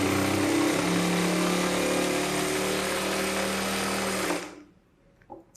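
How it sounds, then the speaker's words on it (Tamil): A sewing machine stitches blouse lining pieces with a fast, even mechanical whirr for about four seconds, then stops abruptly, leaving near-silence and a few faint handling clicks. "ஒன்றரை இன்ச்சு விட்டுட்டு நான் தையல் போடுறேன்"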